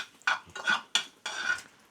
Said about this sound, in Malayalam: സ്പൈസസ് ഇട്ട് ഒന്ന് ഇളക്കി